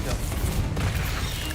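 Confringo fire blast spells from the video game Hogwarts Legacy, heard as a dense, loud, continuous barrage of booming blasts and crackle filling the whole moment.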